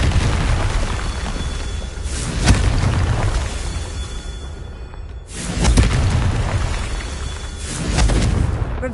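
Spell blasts from Confringo in the Hogwarts Legacy video game, heavy booming explosions around 2.5 and 5.7 seconds over a dense rumbling game soundscape, loud and close with sustained roar between hits.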